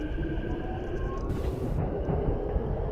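A train pulls away in the BVE5 train simulator game, with a continuous rolling rumble and a thin whine, a brief hissing burst partway through and a steady mechanical drone beneath.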